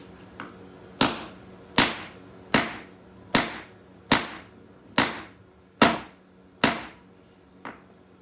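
Brick hammer striking a geode in nine sharp, evenly spaced blows, each a loud close metallic crack with a brief ring, no talk between hits.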